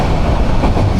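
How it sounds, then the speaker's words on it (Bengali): A train in Bangladesh rolls past on the rails, loud and close, with a dense rumbling clatter filling the whole short moment and no voices. "এই দেখেন ভাই আমাদের বাংলাদেশের ট্রেন"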